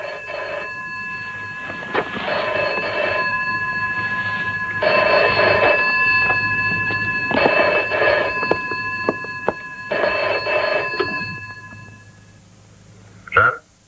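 A telephone rings loudly in repeated double bursts of shrill bell tone with short gaps between them, close by, over a steady low hum, with a brief click at the end.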